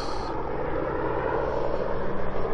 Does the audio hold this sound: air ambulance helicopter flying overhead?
yes